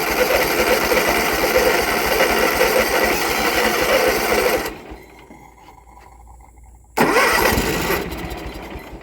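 A John Deere riding mower's engine, left sitting for over two years, cranks loudly with a fast rattling churn, cuts out into near silence for a couple of seconds, then cranks again abruptly.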